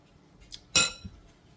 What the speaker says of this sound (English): Just going to break up that egg really good. Get it stirred in.